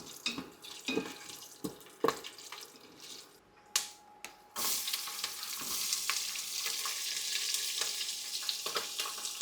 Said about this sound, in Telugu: నూనె వేడెక్కిన తర్వాత కొద్దిగా జీలకర్ర, మనం తీసుకున్న గరం మసాలాలు, జీడిపప్పు అన్నీ వేసేసుకుని వేయించుకోవాలి.